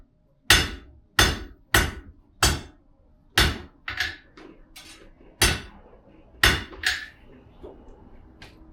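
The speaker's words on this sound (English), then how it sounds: "I take advantage of the rebound in the anvil to even further lessen the strain that I'm putting on my arm" A 19th-century-style blacksmith at a historic village hammers hot iron on an anvil: about ten loud, ringing strikes land in a fairly even rhythm, with a few lighter rebound taps between them.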